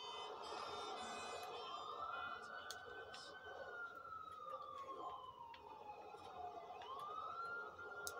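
Police sirens wail in the Modern Warfare 2 No Russian mission, a steady rising and falling tone continuing throughout at moderate distance over background din.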